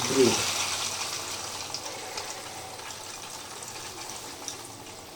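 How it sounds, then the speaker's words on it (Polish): Running tap water fills a string-type water filter housing, a steady hiss and gush of flowing water close by, loudest at the start then settling to an even rush. "Teraz zobaczymy jak się zalewa wodą."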